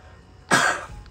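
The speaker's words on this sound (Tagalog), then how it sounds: "Excuse me, sorry. Inuubo ako guys." A single sharp cough, close and fairly loud, rises abruptly from a quiet room and fades within half a second.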